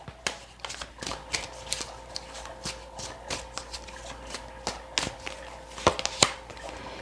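Tarot cards are shuffled and drawn by hand, giving a run of soft, close riffles and crisp snaps that grow sharper toward the end, with no voice heard.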